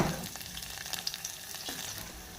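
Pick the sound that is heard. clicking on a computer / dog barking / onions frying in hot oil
onions frying in hot oil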